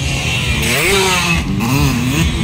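Racing motorcycles in a ladies' final heat at a Teves Cup qualifying event scream past at high revs, loud whining engines rising and falling in pitch as they pass close, with no talk.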